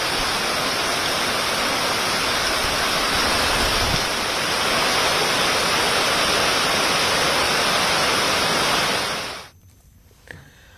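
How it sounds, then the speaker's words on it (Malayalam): Heavy monsoon rain in Kerala pours as a dense, steady roar of broadband hiss that stays loud for about nine seconds and then drops away abruptly. "സംസ്ഥാനത്ത് പെരുമഴ തുടരുകയാണ്"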